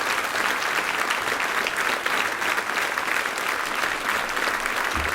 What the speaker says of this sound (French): Avec plaisir, Nathalie, on t'applaudit.